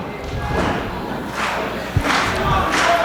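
Crowd noise in a wrestling video game arena, a sustained roar swelling in waves with a single thud in the middle.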